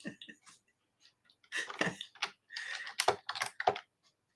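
Clicking and typing on a computer keyboard, a few soft taps and clusters of clicks, close and quiet, with gaps of silence between them.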